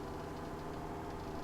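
A tractor engine in Farming Simulator 17 runs at a steady, low, droning idle, even and unbroken throughout, with no talk.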